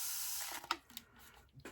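A short spritz of 99% alcohol sprayed onto resin gives a brief hiss near the start, then a few light clicks and handling noises close by, with no talking.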